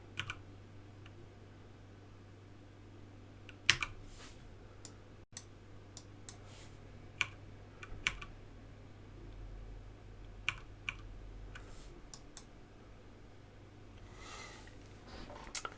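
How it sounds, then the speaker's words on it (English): Computer keyboard keys pressed in a few scattered single taps and short bursts while editing in Lightroom Classic, close and fairly quiet over a steady low hum, with no voices. "press O on the keyboard, which will toggle off the overlay"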